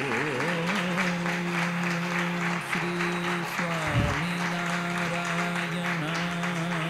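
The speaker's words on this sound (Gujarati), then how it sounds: "સ્વામીનું તાળી તો જોશથી પાડો મારા બાપ" An audience claps for a swami at a Gujarati spiritual katha discourse. The applause is steady and sustained for several seconds over a held tonal hum of music or voice.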